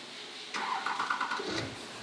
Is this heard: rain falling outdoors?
no